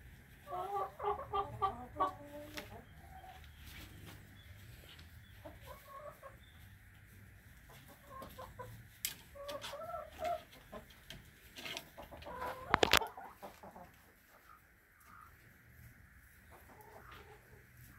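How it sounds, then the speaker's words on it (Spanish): Nearby brooding hens cluck in short bursts, with a brief sharp knock partway through and quiet gaps between calls. "¿Cuántos días lleva la gallina?"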